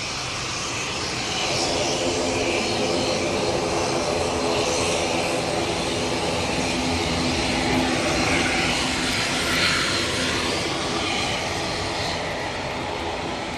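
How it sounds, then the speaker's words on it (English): Loganair ATR 72 turboprop taking off at Manchester Airport during Storm Floris, a steady loud roar of propellers and engines swelling and holding, mixed with broadband wind noise and no talk. "There we go, ATR 72. Going off to Aberdeen."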